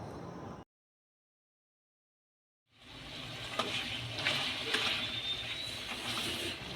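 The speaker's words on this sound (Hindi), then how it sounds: "अब वो जो दही हमने तैयार किया है वो डालेंगे इसमें" Yogurt poured into beef keema in a karahi, Lahori dhaba-style cooking, sets off a loud, steady, close sizzle. A brief burst of frying is followed by a couple of seconds of silence before the sizzle returns with faint stirring.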